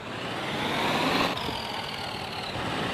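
A tractor engine idles in Farming Simulator 2024 as a steady mid-pitched hum with a faint rise partway through, alone and without speech.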